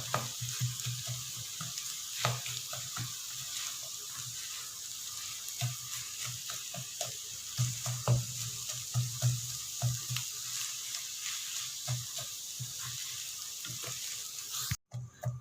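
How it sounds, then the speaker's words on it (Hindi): Cooked potato filling for samosas being mashed with a spoon in a hot pan, soft repeated scraping and squishing taps over a faint background sizzle, quiet and close. "इन आलूओं को थोड़ा सा ऐसे मैश कर लेंगे। चम्मच की मदद से थोड़ा सा और छोटा कर लेंगे।"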